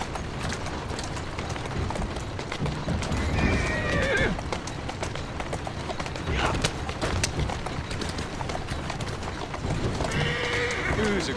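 Horse hooves clip-clop steadily in the video game Assassin's Creed Syndicate while the horse whinnies twice, a rising, wavering neigh each time, close by over a busy background.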